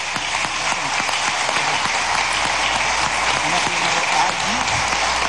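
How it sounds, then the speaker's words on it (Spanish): An audience at the opening ceremony of the Filven 2019 book fair in Venezuela applauds international guests, a dense and steady rain-like clapping that holds at an even level throughout. "a Claudine Polek, mi saludo y un aplauso a todos los invitados internacionales"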